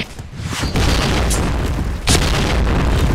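Bomb detonation in a video game: loud, close booms, with a sharp burst near the start and another around two seconds in over a dense, roaring rumble.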